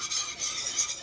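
A metal whisk stirs thick chocolate frosting in a pot, giving a quick scraping rasp in a few rhythmic strokes, close and fairly loud with no talking.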